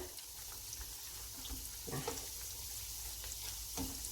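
Fried milk, susu goreng, sizzles steadily in a hot pan, a close, continuous crackling fry with a few brief stirring or shifting sounds and no talking.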